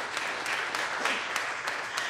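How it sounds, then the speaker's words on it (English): Church congregation at a parish Eucharist clapping steadily, a dense sustained round of applause throughout with no voices over it. "Well, we could give them a round of applause."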